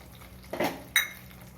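A spoon stirs sautéed eggs into coconut milk gravy in a pan, giving two quick metallic scrapes and clinks, close and distinct against a quiet background.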